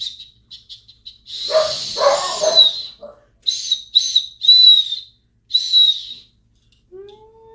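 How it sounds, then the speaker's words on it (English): A small plastic three-function camping whistle is blown in a series of shrill blasts, short chirps first, then a long breathy blow and several sharp bursts, loud and close with brief pauses between. "I mean, it's an okay whistle."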